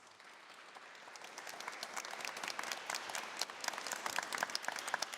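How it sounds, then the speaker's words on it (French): An audience applauds inside a church, a soft patter of many hands that starts quietly and steadily grows louder and denser across the clip. "On vous applaudit."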